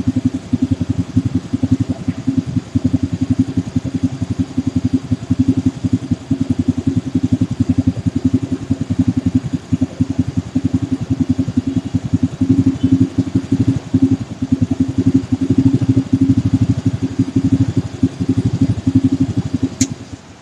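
A carbureted motorcycle engine runs steadily at idle while its RPM is set to about 1400, giving a loud, close, even rumbling chug that holds without strong revving and with no talking.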